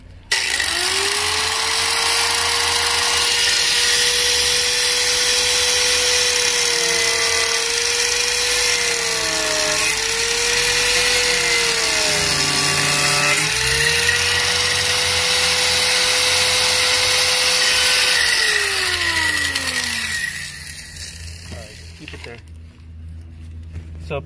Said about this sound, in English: All right, so I'm going to use this grinder tool.